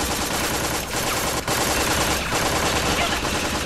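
Video game gunfire crackles in a loud, unbroken barrage of rapid overlapping shots, like machine guns firing together, with brief dips in the din.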